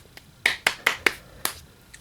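A short clapping sound effect of five sharp, close claps in quick succession, the first four evenly spaced and the last after a slight pause, alone without talking.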